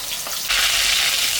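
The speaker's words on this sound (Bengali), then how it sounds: "মাছটা ভাজা হয়ে গেছে, আমি তুলে নিলাম।" Katla fish frying in hot oil, a dense continuous sizzle that swells louder partway through, close and alone with no voices.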